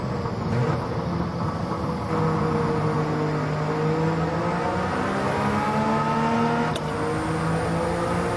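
An engine-swapped Suzuki Cappuccino with a 5-speed transmission revving in Gran Turismo 7, a steady, loud engine drone rising and falling in pitch through the gears with one brief shift dip.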